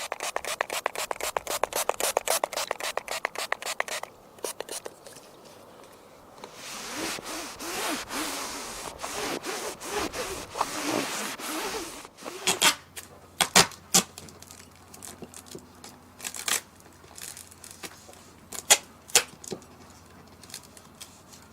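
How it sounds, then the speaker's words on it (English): Repeated rubbing and scraping as repair tape is pressed onto worn RV awning fabric, first in quick rhythmic strokes, then a longer rough scratching pass, ending in scattered close crinkles and taps of a small seam roller. "I've come along with my little seam roller there and added a little more pressure"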